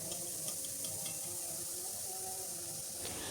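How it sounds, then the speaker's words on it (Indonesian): Bakso goreng, fried meatballs, sizzle steadily in hot oil with a constant bright hiss and faint ticking pops throughout, quiet and continuous with no speech. "Lanjutkan menggorengnya sampai semuanya selesai."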